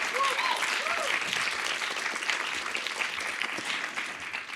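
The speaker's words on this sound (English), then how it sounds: "let's give one round of applause for it" An audience applauds keynote speaker Jason Hickel with a continuous wash of clapping at moderate level, a few faint whoops above it, gradually tapering off.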